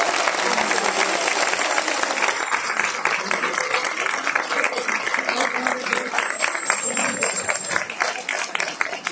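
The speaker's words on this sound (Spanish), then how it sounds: "un aplauso a los técnicos y a las personas del teatro" A theatre audience applauds at a season closing ceremony with loud, sustained, dense clapping that runs unbroken for about nine seconds and sounds close and full.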